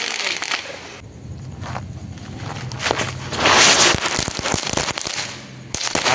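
Diwali firecrackers bursting outdoors: sharp cracking pops scattered throughout, with a louder hissing burst in the middle and more crackles near the end, over crunchy ground noise and footsteps.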